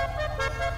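A car horn in the GTA 5 Online video game, sounding as one steady sustained honk with a harmonic, buzzing tone, heard alone for under a second.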